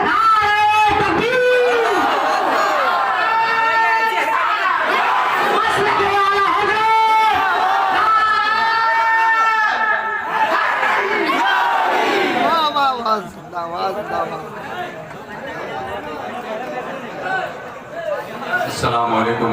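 A large crowd at an Eid Milad un Nabi jalsa in Bareilly roars a loud, sustained takbir chant in unison, with repeated swelling shouts before settling into a softer murmur near the end.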